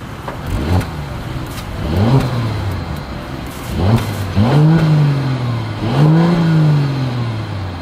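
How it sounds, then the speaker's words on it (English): A 2023 Mercedes-Benz S500 revs its engine through the exhaust in four loud, close blips, each rising sharply and then falling away, with idle rumble between them. "As always, here is that exhaust clip."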